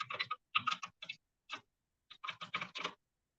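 Someone typing a password on a computer keyboard, quick clusters of crisp key clicks separated by short pauses, close and quiet.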